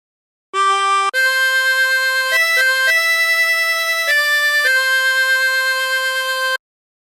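A harmonica plays the hymn Amazing Grace as a slow, sustained melody of held reedy notes with a short break near the start, clear and close, no talking.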